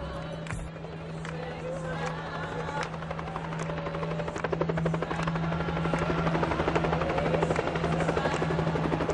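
Helicopters fly overhead during police patrols, making a loud, steady rotor buzz with rapid chopping pulses that grows slightly stronger. Faint voices and crowd noise sit underneath.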